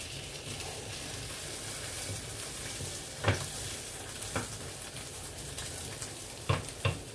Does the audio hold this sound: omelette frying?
yes